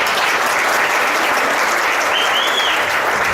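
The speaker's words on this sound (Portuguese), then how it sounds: "vamos dar um aplauso pra essa galera aqui" An audience at a church youth congress claps for the band, a dense, loud round of applause that holds steady for a few seconds with crowd murmur underneath.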